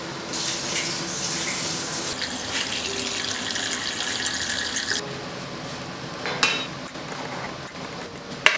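Cold tap water runs steadily into a kitchen pot holding leftover fish fillet scraps for ukha fish soup, a continuous splashing stream that changes pitch as it fills, followed by a few light clinks of cookware.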